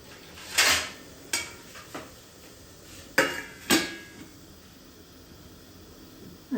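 Metal lid set onto a pot of halved sweet potatoes boiling on a kitchen stove, a few separate clanks and clatters of metal spread over several seconds, fairly close, with no talking.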